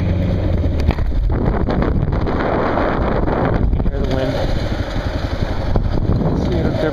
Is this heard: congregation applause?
no